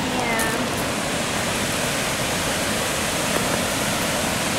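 Steady, broad rushing water of a waterfall on a forest hike near Stechelberg, Switzerland, constant and fairly loud with no pauses.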